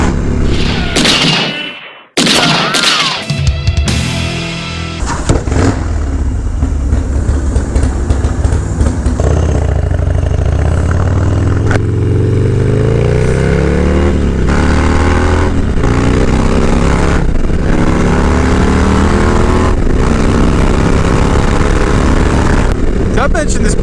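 A 2001 Dyna FXDX motorcycle engine roars loudly while riding, with a rumbling drone that climbs and shifts in pitch through gear changes, mixed with heavy wind buffeting and a few thumps near the start.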